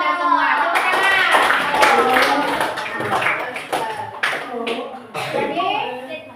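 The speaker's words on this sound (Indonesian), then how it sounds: "Tepuk tangan." Young pupils in an Islamic religious education class clap their hands together, loud and close, the claps mixed with children's voices and chatter throughout.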